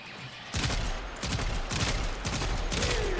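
Rapid bursts of Siberus gunfire in a shooter video game, a dense, loud fusillade of repeated shots with short gaps, close and continuous for several seconds.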